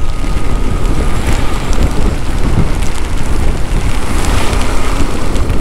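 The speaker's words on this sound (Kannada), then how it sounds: "ಫುಲ್ಲು ಬಾರಿಸ್ತಾ ಇದೆ ಮಳೆ" Heavy downpour in Kerala, a loud, dense roar of rain hammering surfaces with gusts of wind, continuous and close, with no one speaking.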